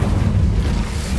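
Incendio fire spell burst in the video game Hogwarts Legacy, a loud, dense low-pitched whoosh and rumble that holds steady throughout the short moment.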